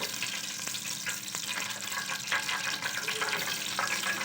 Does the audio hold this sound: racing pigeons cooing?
no